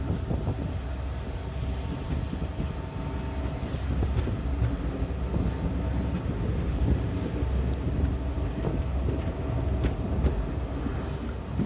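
A diesel-hauled passenger train on the Malda to Balurghat line runs steadily, heard from on board as a constant low rumble with wheel rattle and faint metallic squeals throughout.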